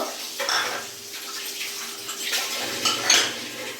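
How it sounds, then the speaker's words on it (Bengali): Dishes and pots are washed under running water, with close clinks and knocks of metal and crockery over splashing. "কিছুটা ধোয়াধুয়ি করে নিই"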